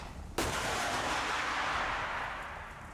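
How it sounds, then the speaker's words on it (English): An anti-tank missile launched at advancing Russian armour gives a single sudden loud blast followed by a long rushing roar that slowly fades over a few seconds. "The operator is firing a missile."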